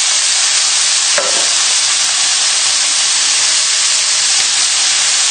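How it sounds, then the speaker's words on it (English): Chopped tomatoes are stirred into a fish cassoulet in a hot pot, giving a loud, steady hiss of steam and sizzle with one brief scrape of the spoon near the start. "And give it a good stir in."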